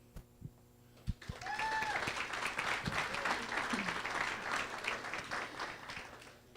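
Audience applause welcoming a new city councillor, Mike McKinley, at a regular council meeting of the City of Duncan, starting after a second and continuing as sustained, steady clapping from a moderate-sized room.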